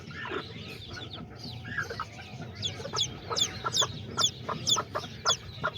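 A hen and her three little chicks, sired by a Pinto rooster, make soft low clucks under a run of thin, high repeated peeps that grow busier toward the end, with no talking.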